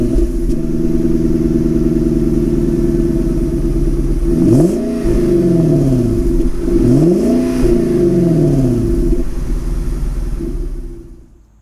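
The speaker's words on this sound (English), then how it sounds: "The startup is amazing." A 2005 Infiniti FX45 V8 idles loudly up close, then two sharp revs rise and fall before the engine shuts off.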